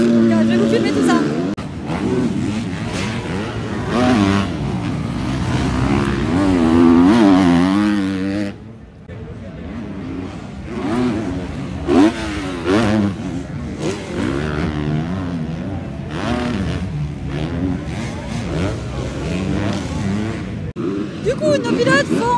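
Supercross motorcycles racing practice laps on a stadium track at a WSX round in Buenos Aires, engines revving and whining continuously at mid distance, rising and falling as bikes pass, with someone talking over the noise.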